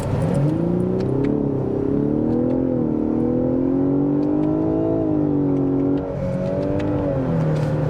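A 2023 Lexus LS 500h AWD hybrid sedan with a CVT pulls hard under acceleration, its engine note rising steadily in pitch, easing back briefly, then climbing again as a loud, continuous drone heard from inside the cabin.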